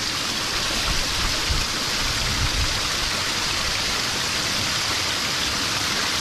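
Water pours out of a storm-flooded rice field into a river in a constant, dense rushing wash, close and steady, with no talk.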